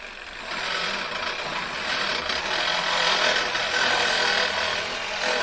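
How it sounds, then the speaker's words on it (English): A Sawzall reciprocating saw cuts through a go-kart frame with a steady, close, rasping buzz that runs unbroken for several seconds, with no talking. "Get out the old Sawzall and start cutting this thing to pieces."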